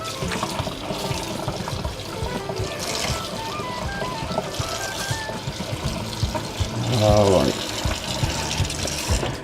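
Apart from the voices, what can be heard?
rinsing chicken pieces under running water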